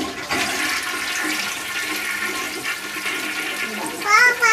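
A household toilet flushes with a rushing, gurgling wash of water that carries on for several seconds. A voice chirps briefly near the end.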